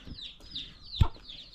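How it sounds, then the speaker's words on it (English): Chickens and young chicks at a farmhouse, a few soft clucks and high chirps close by, with a short thump near the middle, no talking. "I love these chickens, the chicks"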